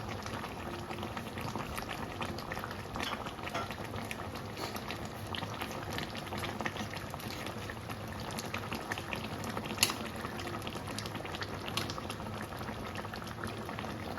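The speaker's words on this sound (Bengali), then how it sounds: "তরকারিটা ফুটতে দেবো" A pan of pointed gourd and prawn curry boils steadily, a dense continuous bubbling and simmering close by, with no voices over it.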